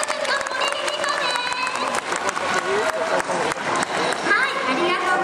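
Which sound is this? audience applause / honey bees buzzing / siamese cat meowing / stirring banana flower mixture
audience applause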